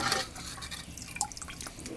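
Milk for kheer pours into a pot, a light liquid trickle with small splashy drips and taps over two seconds, fairly close with no voices.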